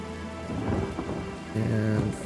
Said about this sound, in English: If I make it rain multiple times